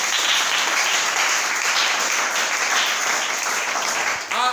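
A church congregation applauds during a French-language evangelical service, a steady dense wash of many hands clapping that holds at full strength throughout and dips only briefly near the end.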